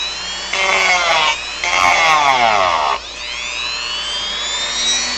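A power tool cutting and carving into a model platform, whining loudly in sustained bursts that rise and fall in pitch as the bit bites and eases off, close and continuous.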